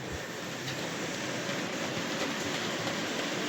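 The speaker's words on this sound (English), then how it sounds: "On this line is the Accurascale Class 37 hauling a few tankers." An Accurascale Class 37 model locomotive hauling a few tanker wagons runs along a layout beside a river, giving a steady, continuous rolling rumble and hiss at close range with no pauses and no voices.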